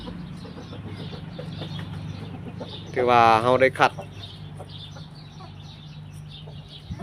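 Fighting-cock breeding stock, a breeding rooster and hens, give a brief burst of clucking partway through, close and loud, while someone talks steadily throughout.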